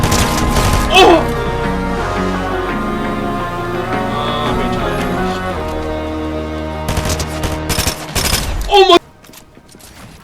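SMG fire in Fortnite comes as a short rattling burst near the start and a louder clatter of shots toward the end, over a steady musical game soundtrack, with a voice exclaiming.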